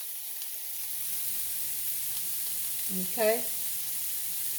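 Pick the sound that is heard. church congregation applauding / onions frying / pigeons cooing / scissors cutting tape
onions frying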